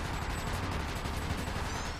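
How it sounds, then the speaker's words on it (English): Gunfire in the video game Ratchet Deadlocked, a dense, continuous barrage of rapid shots and blasts forming a steady loud clatter with no pauses. "We have to shoot the other one first."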